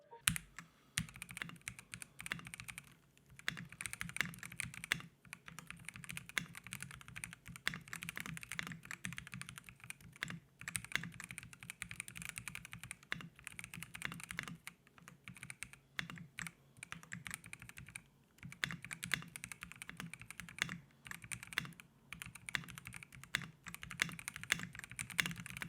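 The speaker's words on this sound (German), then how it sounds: "Aber lasst uns doch mal ein bisschen in die Tastatur reinhören." Steady typing on a Nyfter Nyfboard GEN2 98% mechanical keyboard with RGB-lit switches, a dense, continuous stream of close, crisp key clicks and thocks running for a long stretch without speech.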